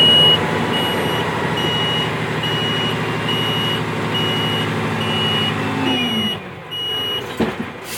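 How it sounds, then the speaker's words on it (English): A truck's PTO reminder buzzer sounds regular intermittent beeps over a loud idling dump truck engine, evenly spaced beeps continuing until the engine note drops near the end. "That buzzer that you hear is a reminder that I have the PTO on."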